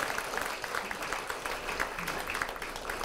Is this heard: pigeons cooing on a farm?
no